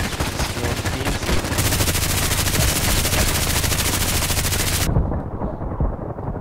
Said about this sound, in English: With the machine gun on this distance.